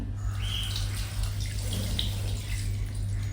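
Water pours into a cooking pot while mutton is being prepared, a steady close splashing rush with no talk over it.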